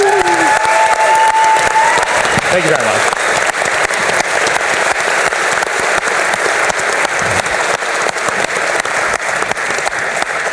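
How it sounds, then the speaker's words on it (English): Crowd applause fills an EVE Fanfest 2016 hall at the Amarr Championships finals, steady, loud and close for the whole stretch, with a brief thank-you spoken over the start. "Everyone, a round of applause for the entire Amarr Championships."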